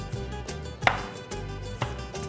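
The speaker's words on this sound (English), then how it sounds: "take the stems off of your hot peppers, slice them in half" Hot peppers are sliced on a cutting board, two or three distinct knife taps against the board over a low, steady background hum, quiet and close.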